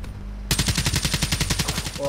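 Rapid automatic gunfire in the video game Black Ops 3, a fast even burst of about fifteen loud shots starting abruptly after a brief lull and ending as a low tone sounds.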